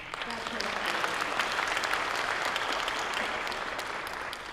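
Audience applause at a university convocation ceremony fills the room, dense and sustained clapping from many hands at moderate level, heard from a distance in a large hall.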